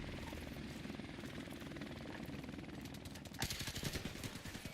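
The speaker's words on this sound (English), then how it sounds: "Oh, the fucking helicopter." Helicopter in Modern Warfare Remastered on the Shipment map, with a continuous loud rotor chop and dense rapid gunfire bursts layered over it, intensifying near the end.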